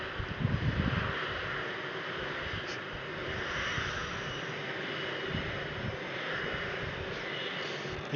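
An aircraft engine drones steadily and fairly faintly at Brussels Airport, with a broad, continuous roar and no speech.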